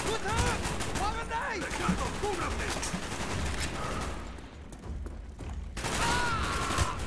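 Rapid bursts of gunfire crackle over a busy Call of Duty: Black Ops soundscape, with voices talking through much of it and a lull before firing picks up again.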